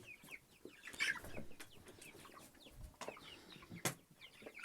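Several month-old chicks cluck and chirp close by in a quiet barn on a snowy, cold day, with soft scratching and an occasional flutter between calls.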